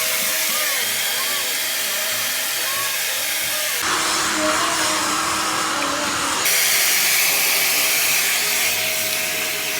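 A hair dryer blows steadily on a child's hair, a loud close whooshing roar that changes tone in the middle as the airflow or setting shifts, then returns to its earlier sound.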